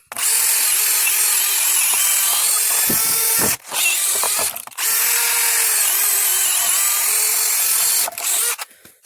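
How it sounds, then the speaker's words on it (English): A 12-volt Bosch brushless cordless drill with a large half-inch Milwaukee bit whines steadily at high speed, loud and close, with a few brief pauses where the motor stops and restarts. "you're not going to be doing that kind of heavy drilling with a 12-volt drill"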